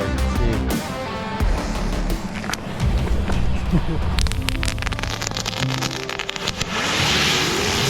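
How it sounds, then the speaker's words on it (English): Ground fireworks crackle and sputter in a dense, continuous burst of sharp pops and hissing for several seconds outdoors at sunset on a mountain outing, loud and close with faint voices mixed in. "I got the last of my ground fireworks."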